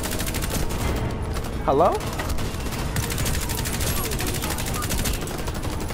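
Steady automatic gunfire in the video game Warface rattles on throughout, a loud rapid stream of shots, with one short spoken word from a player briefly cutting in.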